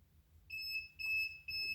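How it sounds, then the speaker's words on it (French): A homemade PIR motion-detector alarm with an Arduino-style buzzer sounds three steady, shrill electronic beeps in a row, close and clear against a faint low hum. "L'alarme s'est déclenchée."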